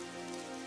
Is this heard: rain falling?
yes